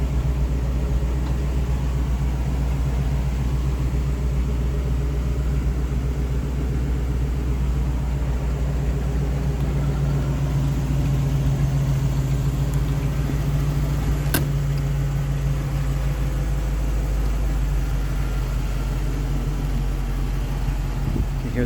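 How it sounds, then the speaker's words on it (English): A 1979 Jeep Renegade CJ-5 with a V8 engine idles steadily close by, a low continuous rumble with a deep hum holding throughout and a single sharp click partway through. "You hear that idle going down, the choke is working."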